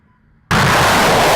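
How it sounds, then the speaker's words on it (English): A guided multiple launch rocket system fires at a training center: after a brief hush, one sudden, very loud close blast erupts and roars on without fading. "This is a guided multiple launch rocket system."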